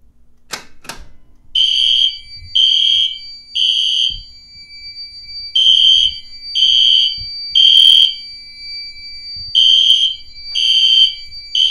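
A building fire alarm system sounds after a BG10 pull station is pulled, giving loud, piercing electronic tones in repeating groups of three with short pauses between groups.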